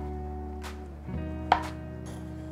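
A knife slices ingredients very thinly for a camping-style risotto, with one or two soft board knocks set against a low, steady background hum and no talking.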